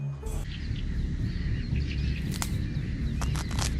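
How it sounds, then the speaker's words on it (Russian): A small songbird sings short trills and chirps in the open, faint and at a distance, over a steady low background rumble with no voices. "Его пение – это не просто звук, а настоящий аудиоспектакль дикой природы."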